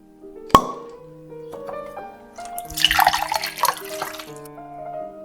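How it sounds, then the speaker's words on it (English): Chianti poured from a bottle into a wine glass, a soft liquid trickle with a faint glassy ring, close and quiet, following a sharp clink at the start; no talking. "Well, I'll pour your glass anyway."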